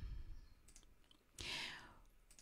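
Soft mouse clicks on a broadcast app button, a couple of faint taps followed by one brighter, louder click near the middle, set against a quiet room with a trace of breath.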